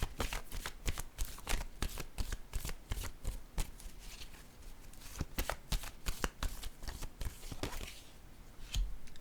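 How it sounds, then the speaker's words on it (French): Tarot cards are riffled and shuffled close up, a rapid series of crisp flapping bursts with brief pauses, ending in a single card being drawn. "je vais piger une carte pour ici"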